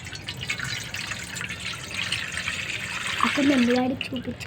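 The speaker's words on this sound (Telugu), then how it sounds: "వాటర్ అయితే ఒక డొక్కుతోటి సరిపడేగా పోసుకుంటున్నాను." Water poured from a small cup, a steady trickling splash running throughout and swelling slightly toward the end, with a brief voice near the finish.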